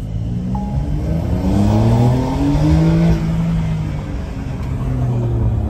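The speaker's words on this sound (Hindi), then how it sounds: "ऐसा लग रहा है हाँ कोई फ्लैट सिक्स इंजन है 3 लीटर का तगड़ा एकदम भाई निकाल रहा है आवाज 4 एग्जॉस्ट से" A Porsche Carrera with a 3-litre flat-six and four exhaust outlets revs up loudly close by, rising to a deep sustained roar, easing, then building again, with no one speaking.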